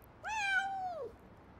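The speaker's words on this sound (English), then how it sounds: "says the furry four-legged creature caught up in a tree." A single close, clear cat meow, a drawn-out rising then falling cry of about one second, from a cat stuck up in a tree, heard alone against quiet background.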